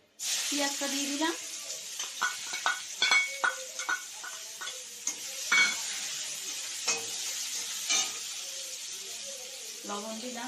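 Onions and dried red chillies sizzling in a hot pan, a continuous bright fry with repeated scraping stirs and clinks of a utensil against the pan, loud and close.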